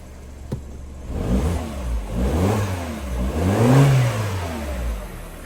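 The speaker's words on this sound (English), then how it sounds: "Engine's running nice and smooth." A 2009 Mini Cooper 1.6 petrol engine, freshly fitted with new spark plugs and coil packs, revs up several times from a steady idle in smooth rising and falling swells, close and fairly loud with no talking.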